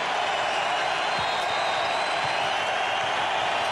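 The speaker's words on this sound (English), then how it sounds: "Rodney Rogers knocks down the three. That ignites the Fleet Center crowd." Basketball arena crowd at the Fleet Center roaring after a three-pointer in a 2002 playoff game between the Celtics and the Nets, a loud, sustained, dense cheer with no break.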